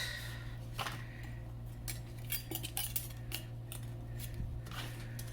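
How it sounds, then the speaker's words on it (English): Metal craft scissors picked up and handled, with faint light clinks and small metallic taps scattered over a quiet room hum, close by and soft. "So let me get my scissors here."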